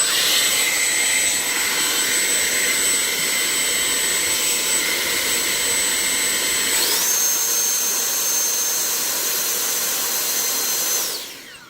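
Freewing Super Scorpion 80mm EDF RC jet spooling up on the ground, a loud steady ducted-fan whine with a sharp high tone that jumps in pitch midway as the throttle opens, then cuts off at the end.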